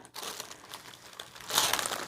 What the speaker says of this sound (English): it is quite normal for the paper to crinkle up while you're sewing